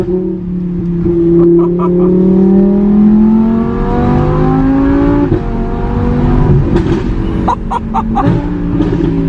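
A Ducati Diavel 1260 Lamborghini motorcycle engine revs up close, its steady droning tone climbing in pitch as it accelerates, then dropping and rising again through a second surge, with no talking.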